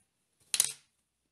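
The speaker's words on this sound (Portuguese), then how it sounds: "venho com a tesoura e corto" A single quick snip of scissors cutting crochet yarn while finishing a heart-shaped crocheted coaster, brief, faint and close, in an otherwise quiet moment.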